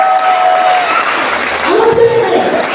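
Clapping and cheering from a church congregation at a French-language worship session, a broad wash of crowd noise under a lingering tone.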